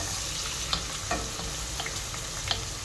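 Onions with salt and ginger-garlic paste fry in a pan for egg dum biryani, giving a constant close sizzle with scattered spoon scrapes and clicks.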